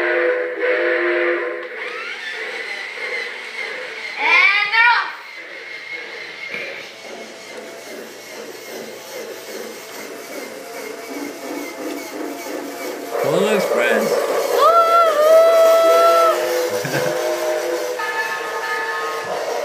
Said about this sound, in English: Looks like the train's here.